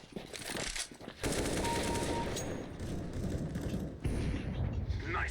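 Rapid bursts of gunfire from a shooting video game, loud and dense, running almost continuously with a brief lull near the start and a sharp new burst toward the end; a voice speaks briefly over it.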